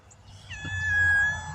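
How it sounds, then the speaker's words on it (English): A small kitten meows outdoors near a flower bed, one rising, drawn-out cry that swells to full loudness and then fades slightly, heard alone against a low background rumble. "That's a cat."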